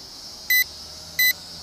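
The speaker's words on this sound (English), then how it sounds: "The transmitter is beeping." Two short, evenly spaced electronic beeps come from a JJRC H68G GPS toy drone's transmitter during return to home, clear over a steady outdoor hiss.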